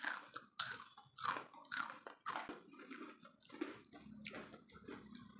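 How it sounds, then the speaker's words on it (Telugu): Someone chews crispy, hot fried food close up, with loud, repeated crunching bites in a steady rhythm and wet mouth sounds between them. "చూసా సౌండ్, చూసా ఎంత క్రిస్పీగా."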